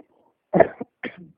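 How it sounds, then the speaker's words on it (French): A single person coughs twice in quick succession, close and fairly loud, with a short throaty follow-up. "tu as le droit de tousser"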